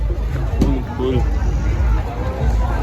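Crowd murmuring at a temple during a pilgrimage walk, a close, dense babble of many voices with nearby talk mixed in, steady throughout.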